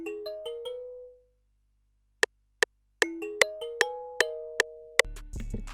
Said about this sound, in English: I then added this kalimba that I actually recorded with my real kalimba.